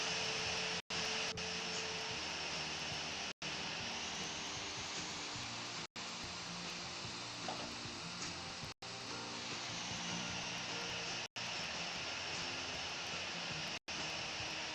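Engines of an Airbus A380-800 at takeoff in a flight simulator game roar as a steady, broad, loud drone for the whole stretch, interrupted by a few brief, abrupt cutouts, with no talking.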